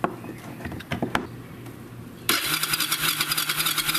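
A Kawasaki Bayou 300 ATV engine that won't start, cranking over: a few scattered clicks and thumps first, then a sustained rhythmic whirring churn of the starter turning the engine without it catching.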